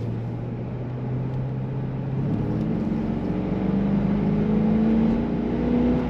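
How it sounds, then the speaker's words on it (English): Automatic 2003 Chevrolet Corvette Convertible 50th Anniversary V8, close and loud, rising from a steady low drone into a revving climb as the throttle is pressed, the engine pitch sweeping upward over several seconds. "lots of fun to hit that throttle"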